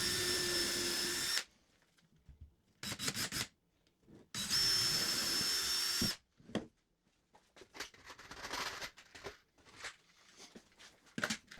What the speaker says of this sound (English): This countersink drill bit sure helps hide my screws a little bit more though